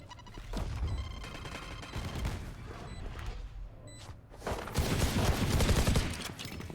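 Gunfire in a Valorant esports match with the spike planted, rapid bursts of shots and impacts trading back and forth, with a heavier volley near the end.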